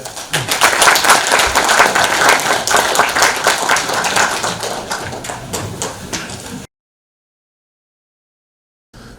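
An academic conference audience applauds loudly for several seconds, individual claps distinct and rhythmic at first, then thinning before the sound cuts off abruptly into silence.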